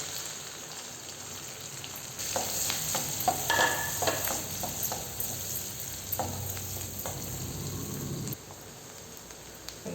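Steady crackling sizzle of onion, green chili and dried red chili frying in hot oil, with scattered pops and stirring noises, continuous and close, no voices.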